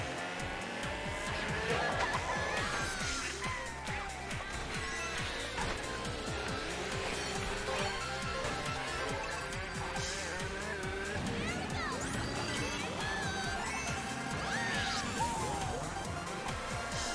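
Kart engines buzz continuously and tires squeal in bursts during a race in the video game Mario Kart 8, a busy, steady wash of game sound with a person occasionally talking over it.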